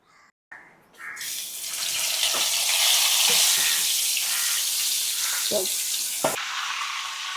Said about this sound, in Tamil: இது நல்லெண்ணெய் ஊற்றி பொரிக்க போகிறோம்.